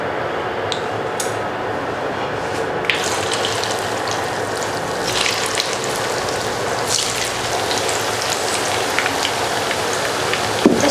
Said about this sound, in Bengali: এখন আমরা এটা ভেজে ফেলি।